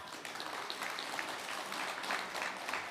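Conference attendees at the opening of the 4th Korea-US Industrial Cooperation Conference give sustained applause, a steady, fairly distant wash of many hands clapping evenly throughout.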